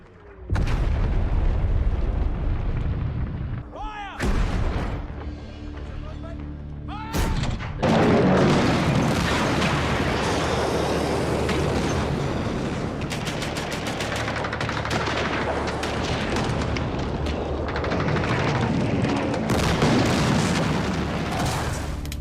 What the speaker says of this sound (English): The usual morning silence is interrupted by the sound of gunfire and explosions